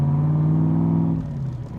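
Engine of a 1965 Shelby Cobra Backdraft RT4 with a Tremec transmission, a loud close rumbling tone holding steady, then dropping in pitch and easing off as the gear shifts near the end, with no talk.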